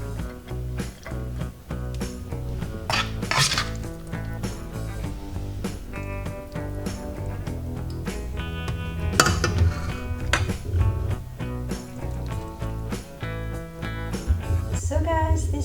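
Cutlery clinks and scrapes against a plate of rice and ground beef with broccoli, sharp repeated taps and clatters through the meal, with soft background music.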